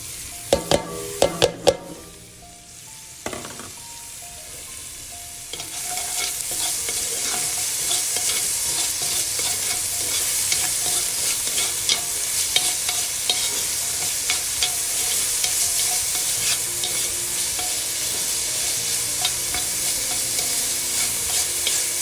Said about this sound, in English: add your garlic cloves into it to saute for about a minute